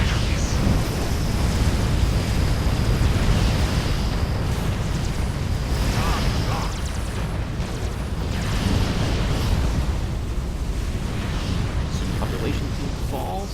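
Heavy antimatter cannons fire in the space strategy game Sword of the Stars, a dense, rumbling roar of blasts that runs the whole time at steady loudness beneath a voice talking over it.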